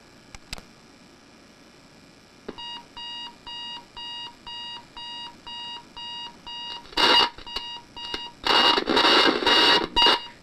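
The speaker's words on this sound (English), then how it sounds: "Now we'll go ahead and we'll set the alarm." A General Electric 7-4630B clock radio alarm sounds alone in a quiet room, first as a steady series of evenly spaced electronic beeps, then as louder, harsher buzzing bursts near the end.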